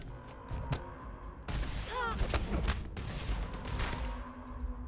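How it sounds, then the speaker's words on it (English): Sci-fi EM weapon gunfire in the video game Starfield, a cluster of sharp shots and zapping bursts at moderate, somewhat subdued level, mixed with other game effects and faint voices. "EM fire, Captain!"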